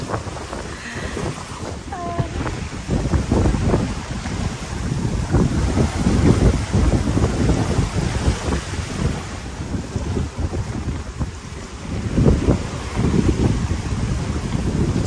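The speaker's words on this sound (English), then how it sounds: "the wind picked up super strong right now" Strong wind buffets the microphone in heavy, continuous gusts while fishing at Sherman Island, with a low roar and water sounds beneath; no one speaks.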